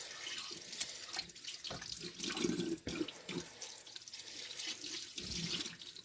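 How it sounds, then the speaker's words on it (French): Water runs steadily from a bathroom faucet into a sink, rinsing off exfoliating scrub foam, a continuous close splashing flow with small shifts in the stream and no voices. "on va venir rincer tout simplement"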